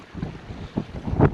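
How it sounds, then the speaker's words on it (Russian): Strong cold wind gusts buffet the microphone on the Taman coast of Russia, rising in uneven bursts with low rumbling roars and no voices. "сейчас вот здесь ветер усилился."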